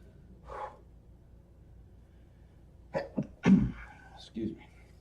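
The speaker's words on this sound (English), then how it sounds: "Sneeze coming." Quick catching breaths build into a single sharp sneeze, close and fairly loud, followed by a short exhale.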